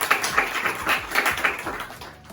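A classroom quiz audience claps its hands in steady, quick, crackly applause that carries on through the whole stretch with no talking over it.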